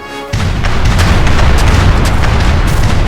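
Ship cannons fire in an Age of Empires 3 cutscene, a sudden heavy boom followed by a sustained rumbling roll of blasts that stays loud to the end.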